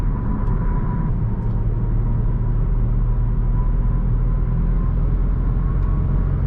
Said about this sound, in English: You can see how quickly and easily the speed picks up on the freeway.